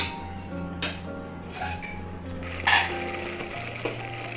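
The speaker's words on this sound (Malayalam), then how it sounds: "ഇനി ഒന്ന് പതുക്കെ തിളച്ച് നന്നായിട്ടൊന്ന് മിക്സ് ആയിക്കോട്ടെ" Gentle bubbling and sizzling from a pot of raw jackfruit and bean curry simmering, with a few clinks and scrapes of a spoon stirring against metal.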